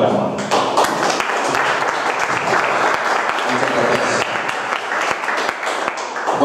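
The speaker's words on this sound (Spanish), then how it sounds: "Un fuerte aplauso para Juan" A lecture audience on Cantabrian folklore and ufology gives Juan Gomez a full round of applause, steady dense clapping from many hands filling the room for several seconds.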